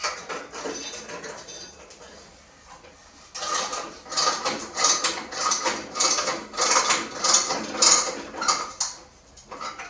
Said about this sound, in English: I'm bolting the wheel down to the table saw.